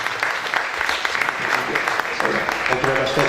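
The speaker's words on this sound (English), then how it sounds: "So please, a big round of applause." Brief, lively audience applause at a debate show for the winning team, brisk clapping throughout with some voices mixed in near the end.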